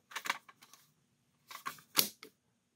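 An Instax Square film pack is loaded into an SQ6 instant camera, giving a few close plastic clicks and rattles in two brief clusters separated by a pause.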